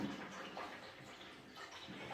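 A small Temu mini portable washing machine churns clothes in water, giving a continuous soft sloshing and swishing that stays faint and even throughout, with no talking.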